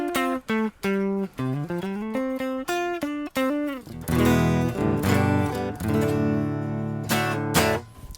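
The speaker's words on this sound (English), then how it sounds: "just the raw guitar sounds like this" Clean, unprocessed electric guitar from a Music Man Luke 3 BFR straight into an amp, played as a run of picked single notes and then ringing chords, up close with no effects.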